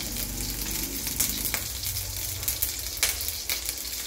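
Pork fat rendering and sizzling in its own oil in a pan while cooking adobong baboy, a loud continuous crackling fry with irregular pops and bursts close up, no talking over it.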